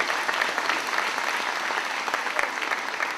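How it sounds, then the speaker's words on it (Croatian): An audience at a Duvno music festival evening applauds steadily, with dense, even clapping that stays moderately loud throughout. "Pozdravite ih slobodno jednim velikim pljeskom."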